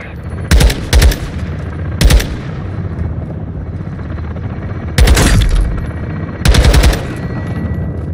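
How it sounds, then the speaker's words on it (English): Belt-fed machine gun fire in Call of Duty MW II, loud short automatic bursts, about six of them spread over several seconds, with a low battlefield rumble between them. "Belt-fed fire from beneath the tower. Take it out."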